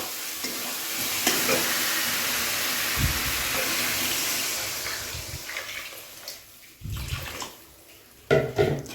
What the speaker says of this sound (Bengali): এবার এখানটা জল দিয়ে দেবো